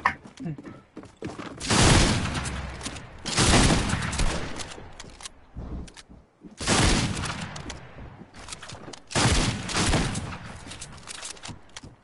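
Repeated bursts of rapid gunfire in a Fortnite Creative match, loud and close, in four distinct volleys separated by short pauses.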